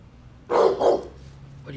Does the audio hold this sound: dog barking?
yes